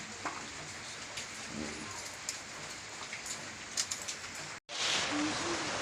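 Heavy rain pours steadily on a village, a dense continuous hiss of drops on surfaces, with a brief break near the end before the downpour resumes.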